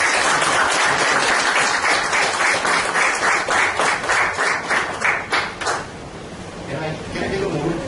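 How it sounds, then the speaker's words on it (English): Audience applause at a professional gathering of learning and development leaders in Mumbai, a dense continuous clapping that stays loud and close before thinning out toward the end. "give them a big round of applause"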